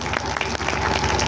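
Steady audience applause from a crowd at a village festival, continuous dense clapping throughout, loud and near.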